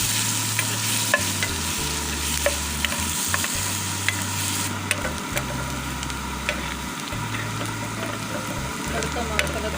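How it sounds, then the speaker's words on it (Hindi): Garlic and ginger paste sizzles and fries steadily in hot oil in a pan for a tarka for village-style masoor dal, with occasional stirring scrapes and a continuous bright crackle throughout. "ये प्यारे से पैन में मैंने ऑयल गरम करने के लिए रख दी है। और इसमें लहसुन अदरक पेस्ट शामिल कर रही हूँ, तड़का बना रही हूँ।"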